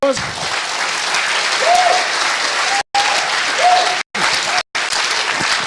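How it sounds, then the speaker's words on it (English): Loud, sustained applause from an audience at a computer games conference, a dense wash of clapping with a few brief dropouts, some faint whistles or cheers mixed in. "Please give a massive applause"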